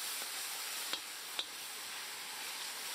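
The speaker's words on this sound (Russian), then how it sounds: "И все хорошо обжарим со специями." Steady soft sizzling of cumin and coriander frying in a hot cauldron, with two brief metallic clinks of stirring.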